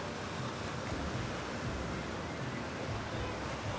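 Surf washing onto a beach in the late afternoon, a continuous broad roar without clear breaks, steady and fairly close, with no voices over it.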